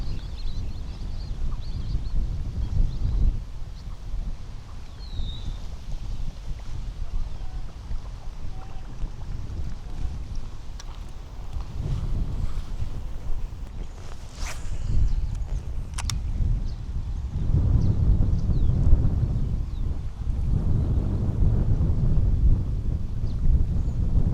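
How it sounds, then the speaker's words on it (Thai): Strong wind blows across a flooded rice field, a loud continuous rumbling buffet that swells and eases in gusts over nearly half a minute, with no talk. "ลมตึงอยู่แท้"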